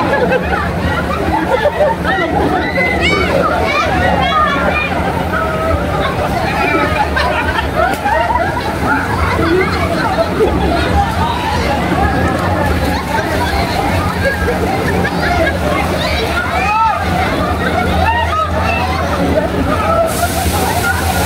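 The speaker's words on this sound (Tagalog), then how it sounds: "tingnan nyo guys kung gaano kalakas ang wave" Waves churn and slosh loudly in a wave pool in Davao del Norte, a constant rushing wash with splashes, while a crowd chatters and shouts in the background.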